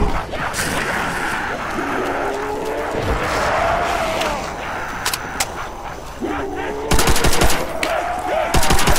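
A weapon fires in World At War Zombies with loud, rapid bursts of automatic gunfire over busy game noise, ending in a dense volley near the end.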